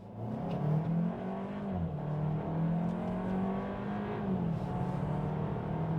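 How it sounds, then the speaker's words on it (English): A 2024 Hyundai Kona Limited AWD launches hard from a brake stand, its engine climbing in pitch through gears with brief dips at shifts, heard steadily from inside the cabin with no talking. "I'm gonna do a quick acceleration in this one really quickly, fully on the brake, and let's go!"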